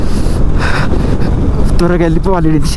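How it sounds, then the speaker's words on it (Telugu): Strong desert wind gusts buffet a moving motorcycle, a loud, constant roar of rushing air against the rider, while someone speaks over it. "మొత్తం గాలి దుమారం నన్ను నెట్టేసింది మొత్తం"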